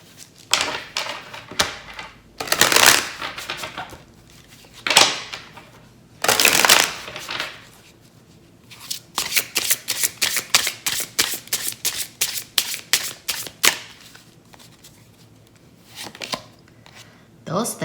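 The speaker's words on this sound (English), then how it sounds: "If you don't get the answer you want, keep shuffling." Tarot cards are shuffled repeatedly, with several long riffling bursts followed by a run of quick, crisp flicks close by.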